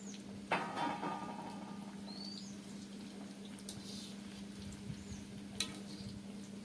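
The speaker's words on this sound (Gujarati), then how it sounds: "આપણે આવી રીતે બધા મુઠિયાને તળી નાખવાના ધીરે તાપે." Muthiya dough dumplings for churma laddoos frying slowly in oil over a low flame: a soft, steady sizzle with a low hum beneath and a couple of light clicks. No one speaks.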